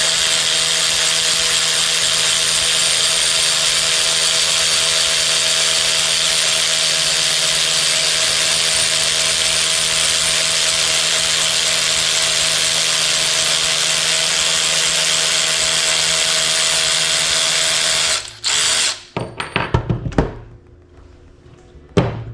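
Ridgid R866011 power ratchet running: a steady high whirring motor drone held for about eighteen seconds, then stopping with a few short bursts and clicks.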